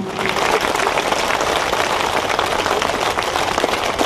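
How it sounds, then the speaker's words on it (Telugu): An audience at a group meditation session claps together, a dense steady patter of many hands lasting the whole stretch at even loudness, with no voices over it. "ఒక్కసారి గట్టిగా చప్పట్లతో అభినందనలు తెలియజేస్తూ"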